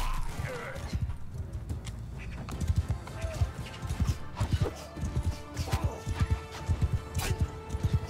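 Horses gallop through a medieval battle in the Bannerlord video game, hooves clip-clopping in a steady, dense rhythm with clanks and crashes of combat, a brief whinny, and someone talking over it.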